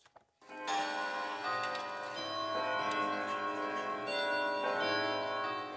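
Many clocks fill a clockmaker's workshop in Caluire with a dense, layered sound of ticking mechanisms and ringing metallic tones that holds steady after a brief quiet start.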